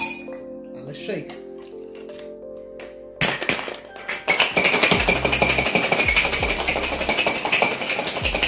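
A bartender gives a cocktail shaker of gin, liqueur, mint leaves and ice a hard shake: after some quiet clinks and a thunk, a loud, fast rattling of ice against metal starts and keeps going steadily to the end.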